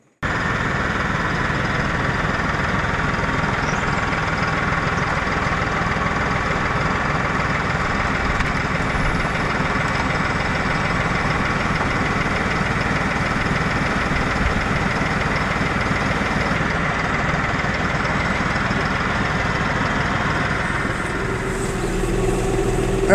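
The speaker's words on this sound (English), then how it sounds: "The tractor's warming up." A tractor engine idles steadily while warming up outdoors in the snow before log splitting, a continuous low rumble with no talk, holding nearly constant for over twenty seconds before a slight change at the end.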